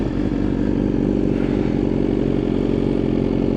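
Several motorcycles, including a BMW S1000RR, rumble steadily as they head out together from a cars and coffee meet, a continuous loud engine drone with no voices.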